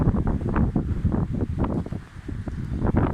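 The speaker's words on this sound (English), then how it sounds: "Oh, the wind is super mad. Look at it go." Strong gusty wind blowing across an old 1700s field during metal detecting, roaring and buffeting hard against the microphone in loud uneven surges, dipping briefly before picking up again, with no talk.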